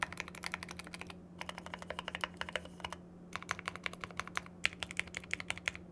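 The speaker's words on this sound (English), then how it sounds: "This is the GMMK Pro stabs with Gateron Black Ink V2s." Rapid typing on a GMMK Pro mechanical keyboard fitted with Gateron Black Ink V2 switches and relubed stabilizers, with bursts of crisp, even keystrokes broken by short pauses, close and clear over a steady low hum.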